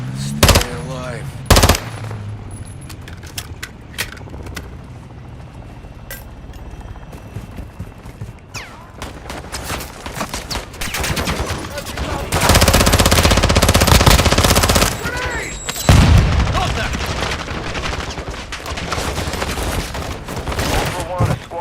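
Bursts of automatic gunfire and scattered shots in Call of Duty Warzone 3 DMZ solo play, loud and close, with heavy sustained firing in the middle alongside in-game radio voice callouts.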